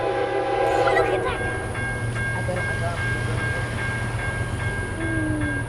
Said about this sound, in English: the geometry train going north on the A line toward Lakeland